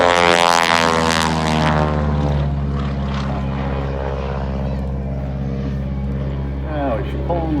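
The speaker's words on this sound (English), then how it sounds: "What a day for the B-25." A 1944 B-25 bomber flies over an airshow crowd, its twin radial propeller engines giving a loud, steady droning roar, with a commentator talking over it throughout.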